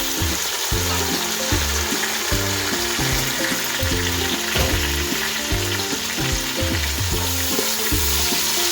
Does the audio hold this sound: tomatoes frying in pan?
yes